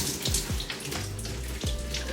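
Tap water runs steadily as hair is wet under it, a continuous close splashing hiss with a few low gurgling thumps.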